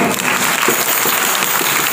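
A crowd at a rural Punjab fair applauds loudly and continuously, many hands clapping in a dense, even roar with no pause.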